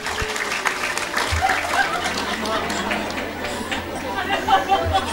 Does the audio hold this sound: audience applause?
yes